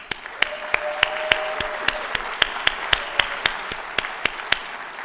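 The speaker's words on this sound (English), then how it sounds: "So let's give Tunç a big round of applause again." Applause at an award dinner, a room of people clapping steadily with a few sharp, distinct close claps standing out in a regular beat over the general wash.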